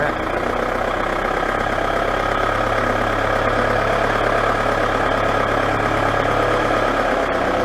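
A CX30 machine's engine runs steadily while the machine swings, a loud continuous mid and low drone with a faint steady hum underneath and no break throughout.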